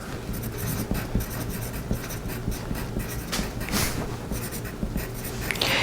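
Steady scratching of a marker or chalk dragged across dress fabric to mark a sewing pattern, short repeated strokes with light rustling, close by and moderately loud, no talking.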